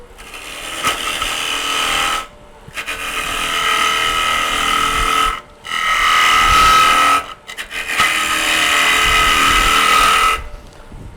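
A gouge cuts into a wooden bowl spinning on a lathe, giving a loud, steady scraping rasp in several sustained passes separated by brief pauses.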